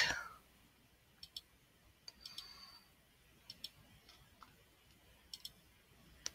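Mouse clicks while working with the Pen tool in Photoshop, faint, sharp isolated clicks, some in quick pairs, spaced irregularly over a quiet background.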